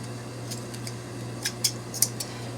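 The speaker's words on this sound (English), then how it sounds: "I'm going to kind of cut it into a point." Scissors make several crisp snips at close range, cutting material into a point for a witch hat craft, against a quiet background hum.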